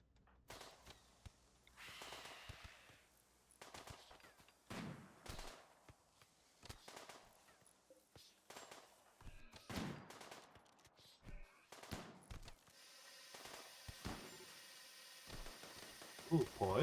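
Sniper rifle fire from a RimWorld battle, sharp shots cracking out one after another at irregular intervals over a busy mix of game effects, with a faint fizzing hiss toward the end.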